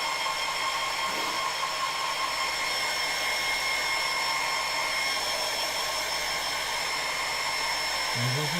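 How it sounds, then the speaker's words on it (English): A hair dryer blows in one steady, loud, close-up stream for the full stretch, used during miniature painting of Warhammer Orks, with no speech over it. "another blast of the hairdryer"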